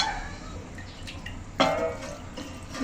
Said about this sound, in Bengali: দিয়ে দিচ্ছি জল, আর একটু জল দেবো।